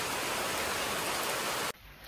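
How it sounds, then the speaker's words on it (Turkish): Steady heavy rain falls in Ubud, making a dense, even hiss that fills the space and then cuts off abruptly near the end, leaving a quiet room. "Nasıl güzel yağmur başladı otele girdiğim an"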